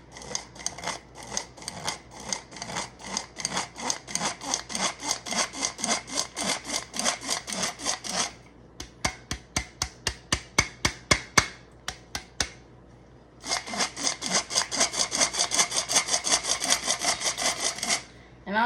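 A hand-crank sifter works flour in rapid, rhythmic scraping bursts, close and crisp, with a slower stretch of distinct ticks in the middle before the fast cranking resumes.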